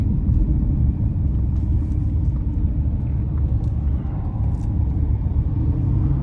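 A 2019 Mercedes-Benz C63 S AMG Brabus 900 rumbles with a deep, steady, loud engine drone from inside the cabin while driving, sustained without pause.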